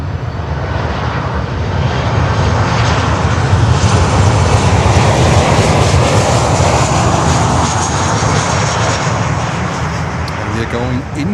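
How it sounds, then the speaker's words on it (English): An American Airlines Boeing 737-800 jet roars past during Miami planespotting, a loud, broad, sustained engine rush that holds strong throughout with a slowly shifting whine as the aircraft moves overhead. "American Airlines with a 737."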